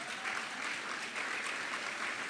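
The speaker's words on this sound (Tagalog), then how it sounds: "Palakpakan po natin ang isang malakas na palakpak" A church congregation at a JMCIM preaching service claps steadily, a dense, even roar of many hands that holds for the full stretch with no voices over it.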